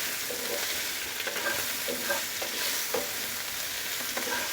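Small potatoes stirred and frying in a pan with turmeric powder give a steady close sizzle, broken by soft scraping stirs every second or so, with no voices.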